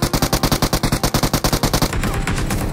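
Rapid automatic gunfire from a World War II-era weapon in the battle royale game Peacekeeper Elite, about twenty evenly spaced loud shots in a sustained burst that ends abruptly and gives way to a dense wash of noise.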